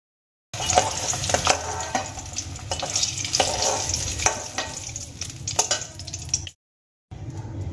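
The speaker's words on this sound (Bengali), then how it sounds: "ডিমগুলো আমি হালকা লাল করে ভেজে নেব।" Eggs fry to a light brown in oil for egg curry, giving a loud, continuous crackling sizzle with spatula scrapes. It cuts out briefly near the end, then resumes.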